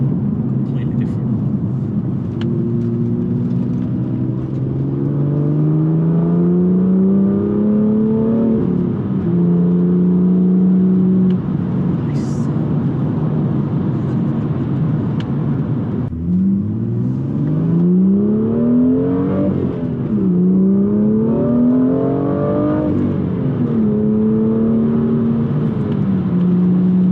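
BMW M2 driving along a road, a steady close engine drone from inside the cabin with rising and falling tones as it accelerates and shifts, under continuous road rumble.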